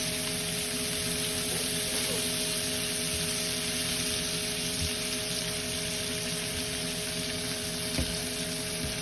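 Garlic and butter sizzle in a hot pan after searing, a loud, steady, dense hiss that carries on without a break. Faint pops sound now and then.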